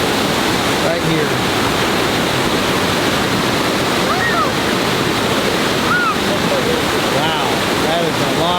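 Rogue River water rushing through the natural bridge lava tube in a gorge, a loud, constant roaring wash close by, with faint voices talking under it.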